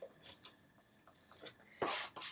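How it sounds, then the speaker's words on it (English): A palette knife scrapes and squishes oil paint while a Van Gogh vase of red poppies is painted: soft, faint rasping strokes, ending in two louder, brighter scrapes. "I'm using the palette knife now. Here like this. Coming this way, and then maybe I'll come over here with something like this, scraping and squishing."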